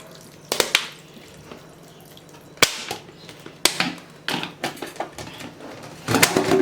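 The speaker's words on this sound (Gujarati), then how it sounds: "થોડું થોડું પાણી ઉમેરતું જવાનું છે" Water splashes and drips in short bursts as it is poured bit by bit over homemade butter being washed, with sharp trickles and sloshes separated by quiet pauses.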